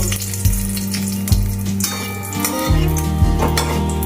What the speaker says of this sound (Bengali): তেল গরম হয়ে গিয়েছে এবার আমি দুটো তেজপাতা আর দুটো শুকনো লঙ্কা তেলের মধ্যে দিয়ে নেবো